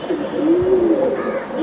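Young pigeons in a loft, offered for sale alongside racing Giribaj and Pankhi birds, give a close, rolling coo that rises and falls in one drawn-out phrase with a softer second call near the end.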